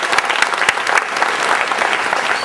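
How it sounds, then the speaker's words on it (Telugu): Loud, dense applause from a college audience at a speaking program, many hands clapping continuously and evenly throughout, close and full without any speech. "ఎంత మంచి మాట, చప్పట్లు కొట్టచ్చు కదా దీనికి"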